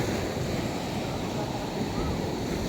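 Sea waves washing at a shore, a steady rough surge and rumble mixed with wind buffeting, continuous and fairly close throughout.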